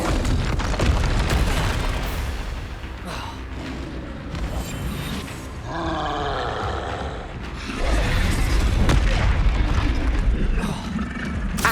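Spell-casting explosion from the Confringo fire curse in the Hogwarts Legacy video game, with booming bursts and crackling blasts over continuous loud game ambience and a swelling rumble toward the end.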